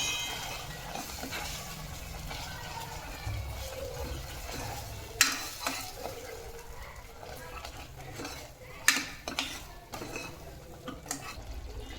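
Masala spices are stirred and sautéed in a pan for a homemade paneer masala: a quiet sizzle sits under spoon scrapes, with a few sharp clinks of utensil against the pan.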